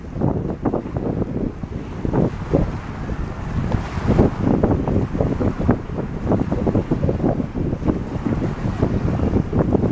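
Strong wind buffets the microphone steadily for the whole stretch, loud and gusty, with a roaring, rumbling texture and no voices.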